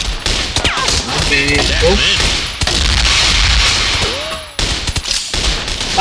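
Bursts of G36C rifle fire from a video game, a fast crackling fusillade with booming impacts, loud and close, mixed with game effects while someone talks over it.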